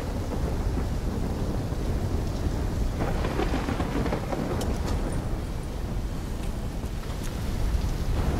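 Thunderstorm in Call of Duty: Black Ops III, heavy steady rain roaring throughout with low rumbling thunder and scattered sharp crackles, loud and continuous with no voices.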